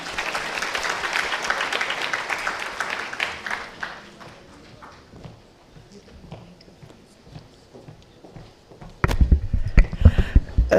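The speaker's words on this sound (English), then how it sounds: "Another round of applause, please" Audience applause at a gut health symposium, a steady round of clapping that gradually fades to scattered claps before a loud burst of sound returns near the end.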